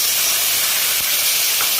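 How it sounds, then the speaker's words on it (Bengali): Potatoes drop into hot oil with tempered spices, producing a loud, dense, steady hiss of frying up close for a brief moment. "এরপরে আমি আলু দিলাম, আলুগুলোকে ভেজে নেব।"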